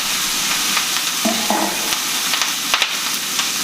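Vegetables hitting hot oil for a stir-fry set off a loud, continuous hiss and crackle with scattered sharp pops throughout, close up and with no talking over it.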